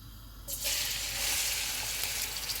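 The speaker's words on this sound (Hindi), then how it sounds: "ऑयल गर्म हो गया, इसमें प्याज डालेंगे।" Onions drop into hot oil for chicken yakhni pulao, with cloves, cardamom and cinnamon already in the pan, bursting into a loud, close, steady hiss after a quieter moment.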